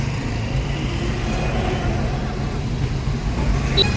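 Road traffic idles and rolls at a signal in Senthil Nagar, a steady engine rumble from cars and buses, with a voice talking over it.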